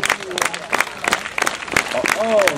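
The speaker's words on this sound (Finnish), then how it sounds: "Vitolle annetaan kunnon aplodin." An audience applauds Vito at the 2013 Finnish championship with a brief burst of steady clapping while a commentator keeps talking over it.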